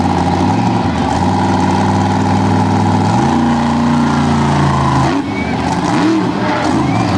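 The Raminator Ram Trucks monster truck from Illinois revving its big engine on the racing lane at a Hagerstown event, a loud deep roar with shifting pitch, an announcer talking over it.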